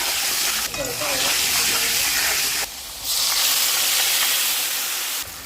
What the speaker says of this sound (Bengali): গোটা জিরে ফোড়ন, এবার আলুগুলো দিয়ে দেবো।